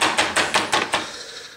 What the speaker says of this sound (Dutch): Ik sla de borstel af.